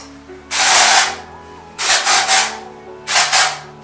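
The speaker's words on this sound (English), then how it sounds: "I'm gonna use some dry shampoo, just so we get a bit of lift." Dry shampoo sprayed onto hair in three hissing bursts, first one long blast and then two shorter pulsed sprays, loud and close.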